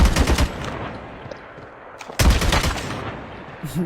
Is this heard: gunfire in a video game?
yes